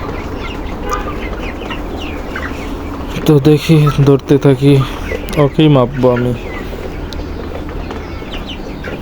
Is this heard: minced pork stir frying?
no